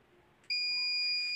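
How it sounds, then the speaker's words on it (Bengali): A parking sensor alarm on a science fair project switches on abruptly and holds a steady, piercing electronic buzz against a quiet room. "দেখতেই পাচ্ছেন, এতে করে অ্যালার্ম বেজে উঠেছে এবং এলইডি লাইটও জ্বলে উঠেছে"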